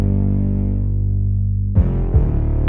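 A deep 808 bass layered with a cinematic orchestral strings bass holds a long, loud sustained low note, then a second fat low hit enters with a brighter attack and a beat-like pulse near the end.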